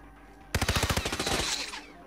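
Rapid automatic gunfire in the Hitman video game: a tight burst of about a dozen loud, evenly spaced shots, fading into a ringing tail.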